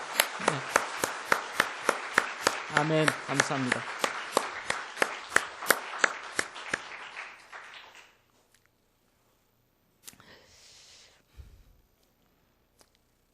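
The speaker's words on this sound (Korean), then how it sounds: "우리 박수로 격려하겠습니다" A church congregation claps together in a steady burst of applause lasting several seconds, then the clapping fades out and someone speaks briefly.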